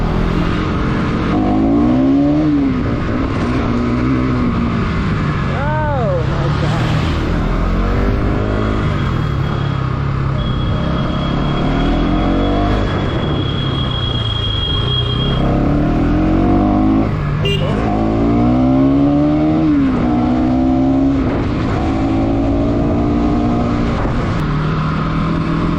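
A Bajaj Pulsar NS200 motorcycle on Ceat tyres being ridden, its engine droning loudly and continuously with rising and falling revs through gear changes, plus wind rush, and no speech.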